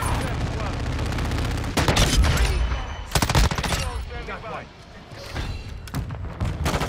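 Full-auto Desert Eagle hip fire in Modern Warfare 2 comes as loud, dense bursts of rapid shots with heavy booming low end, pausing briefly between volleys while a voice talks over the action.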